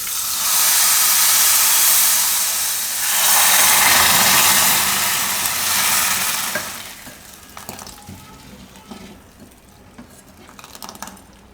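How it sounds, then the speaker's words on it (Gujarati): Hot tempering of asafoetida and curry leaves poured over maize flour raab gives a loud sizzling hiss for several seconds, fading to quieter bubbling and clinks of a pot and spoon. "આ વઘાર આપણે આની ઉપર નાખી દઈશું."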